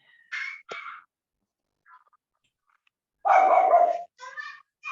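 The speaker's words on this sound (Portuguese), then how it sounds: "Tem um cachorrinho aí latindo." Several short, sharp dog barks ring out close by in quick bursts, separated by pauses of silence.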